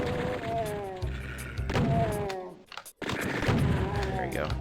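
A chaingunner fires in Doom 2 amid other game combat, rapid bursts of gunfire and thumps with a sudden brief silence midway, then more shots.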